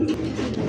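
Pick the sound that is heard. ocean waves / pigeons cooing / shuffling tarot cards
pigeons cooing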